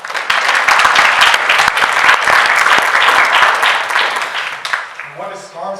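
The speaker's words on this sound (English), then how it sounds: "So maybe we can just give them a round of applause for their efforts." A colloquium audience applauds the organizers with loud, dense, sustained clapping that fills most of the stretch before thinning out near the end, where a voice begins to speak.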